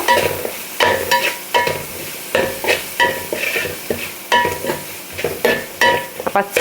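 Turmeric, coriander and chili powder fry and sizzle in a pan as a spoon scrapes and stirs in repeated strokes, a steady close frying hiss between each loud stir.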